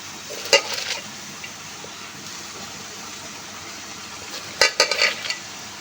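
Malabar spinach dropped over fish heads in a pan, giving a quiet, steady sizzle with two brief bursts of louder clatter and stirring at the start and near the end.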